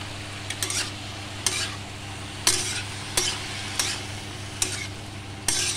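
Salted vegetables for a potato-peel curry frying in a pan over a steady low hiss, broken by a handful of sharp, separate scraping and stirring clicks of a spatula, with no voices.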